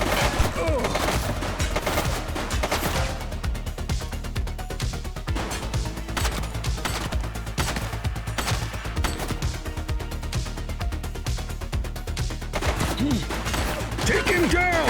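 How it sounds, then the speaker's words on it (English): Constant bursts of gunfire from The Precinct, a police video game, rattle on without pause, dense, loud rapid shots layered over a busy game soundtrack for the whole stretch. "He's shooting!"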